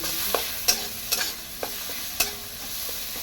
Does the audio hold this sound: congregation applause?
no